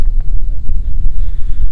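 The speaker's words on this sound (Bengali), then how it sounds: "প্রচুর হাওয়া দিচ্ছে" Strong wind buffets the microphone on an island near a fishing boat, producing loud, gusting low rumbles throughout.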